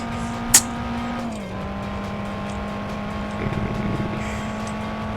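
Racing car engine in the video game Overspeed: HPSR, a loud steady high-revving drone that drops in pitch with a gear shift, with a brief sharp click early on and no talking.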